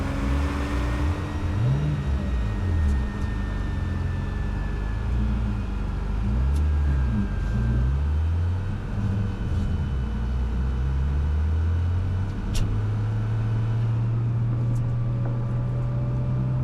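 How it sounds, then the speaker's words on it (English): A warm Porsche 993 Twin Turbo 911 exhaust drones loud and continuous while driving, its pitch rising and falling with throttle and gear changes, road and cabin noise beneath, no talk. "You can tell the exhaust sounds a little bit different when it warms up a bit."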